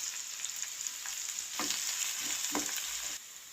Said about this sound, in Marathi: तेल तापलं आहे आता मी राई टाकते कांदा टाकलाय मिरची टाकते कढीपत्ता